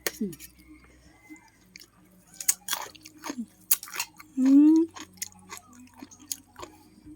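Someone eats Thai papaya salad (som tam) close up, with soft wet chewing and crunching between bursts of talk, and a brief loud tonal squeak midway.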